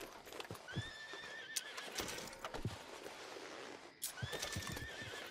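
Horses in Red Dead Redemption 2 whinny twice in high, shrill neighs over a steady clatter of hooves on the ground, fairly close and clear.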